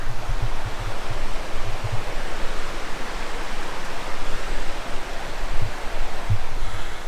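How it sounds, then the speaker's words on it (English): A stream rushes steadily beside a campsite in Waiparous, producing a broad, constant roar with no breaks, loud and near throughout. "Got to sleep with the sound of rushing water all night."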